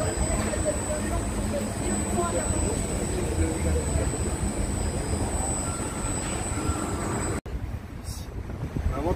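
A small tourist train rolls past at a Christmas market with a continuous rumble and some wheel noise, heard outdoors amid crowd murmur and wind buffeting the microphone.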